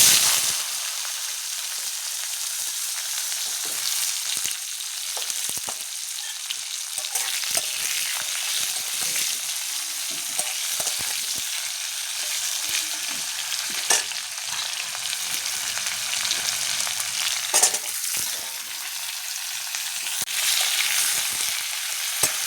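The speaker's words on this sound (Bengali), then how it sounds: "এবার কেটে রাখা আলুগুলো দিয়ে দেবো।" Cut potatoes fry with green chilli and nigella seeds in hot oil, a dense, continuous hiss of sizzling that runs steadily throughout, with occasional faint stirring clicks and no voices.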